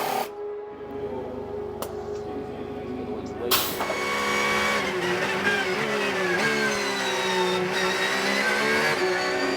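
A race car engine rises in pitch as it accelerates away on the track, a loud, sustained tone with climbing harmonics after a quieter idle start, while a voice talks over it.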